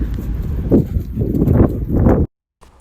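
A six-year-old mare walks with heavy, muffled hoof steps falling in an uneven rhythm, close and loud over a low background rumble, before the sound cuts off abruptly.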